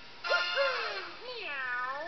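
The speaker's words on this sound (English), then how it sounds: "I love that new cat sound that Mario made." A cartoonish cat meow from Mario in the video game Super Mario 3D World, a short rising-and-falling mew followed by a second longer wavering meow, close and clear.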